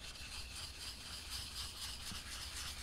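A straight razor blade is honed on a Shapton 1000 whetstone, giving a faint, steady gritty rubbing and scraping close by, with no talking.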